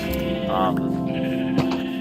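Sheep bleating in Minecraft, a survival game with mostly brown sheep in a field; a couple of clear, loud synthetic bleats stand out over steady game background sound.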